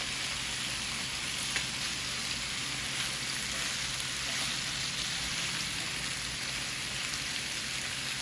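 Chicken wings, Buffalo honey flavored, sizzling and browning in a pan on a stovetop over medium-high heat, a steady dense crackle and hiss running unbroken and fairly loud throughout with no talking.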